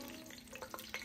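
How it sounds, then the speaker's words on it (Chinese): Bay leaves and cinnamon frying in half a cup of scallion oil for chicken biryani, a steady close sizzle with a few brief stirring scrapes. "锅里倒入半杯葱油，加入剩下的香叶和肉桂炒香"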